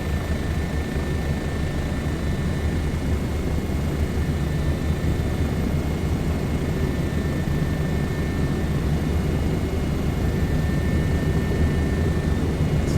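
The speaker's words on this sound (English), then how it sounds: "Just a lovely helicopter, this." A Bo 105 helicopter flies over Niagara Falls in Microsoft Flight Simulator 2024, its rotor and turbine making a continuous, even drone with a faint high whine and no speech.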